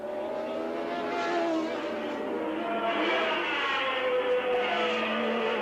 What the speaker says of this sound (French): On entend son moteur.